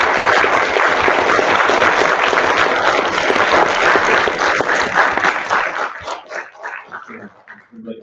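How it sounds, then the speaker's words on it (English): A crowd at a public education committee hearing gives a sustained round of applause for the youth, a dense close wash of clapping that holds for several seconds before thinning out and fading. "I want to just ask if we could all give a round of applause for all the youth who came out tonight"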